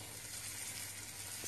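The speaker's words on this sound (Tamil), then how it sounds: "இப்போ அதோட 1 நறுக்கிய தக்காளியும் சேர்த்துடலாம்." Onion, ginger-garlic paste, green chili, curry leaves and chopped tomato frying in a pan for a goat liver gravy, giving a steady, even sizzle throughout with no voices.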